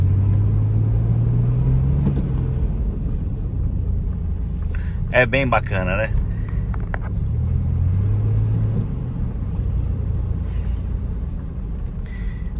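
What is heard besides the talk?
Chevrolet Blazer 4.3 Vortec V6 engine revving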